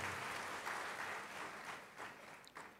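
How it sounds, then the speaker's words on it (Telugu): An audience at a sermon claps, a faint, steady patter of applause that carries on throughout and sounds somewhat distant. "మీరెందుకు చప్పట్లు కొట్టారు?"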